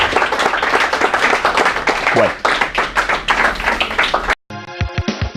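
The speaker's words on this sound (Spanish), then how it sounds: "un aplauso para todos ustedes" Audience applause fills the room: dense, continuous clapping from a crowd at a presentation, loud and steady for about four seconds, with a voice speaking briefly over it before the sound cuts off.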